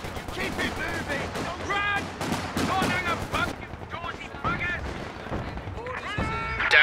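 Bursts of gunfire and explosions from the Company of Heroes 2 strategy game in a 1v1 infantry battle, rattling shots layered under shouted in-game soldier voice lines throughout.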